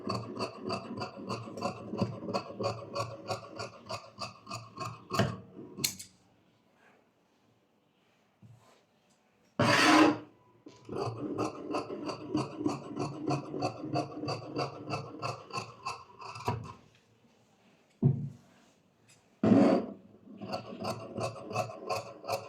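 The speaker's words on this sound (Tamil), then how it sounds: "ஓகே, இப்போ இதை கட் பண்ணி எடுத்துக்கலாம்." Scissors rasp through pant fabric in long, rhythmic runs of rapid snipping, close and fairly quiet, broken by short pauses and a few sharper thumps as the cloth is handled.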